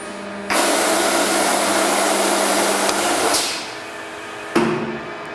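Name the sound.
door machining center auto feed cutting a door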